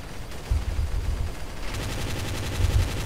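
Rapid gunfire from the video game Counter-Strike, a busy rattle of shots with heavier thumps in short clusters, loud and close with no talking.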